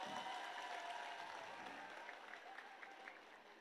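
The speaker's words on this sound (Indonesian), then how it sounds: "tepuk tangan untuk Mas Gibran" An audience at a boarding school anniversary event in Indonesia claps for the Vice President, a steady, fairly soft patter of many hands that fades slightly over a few seconds.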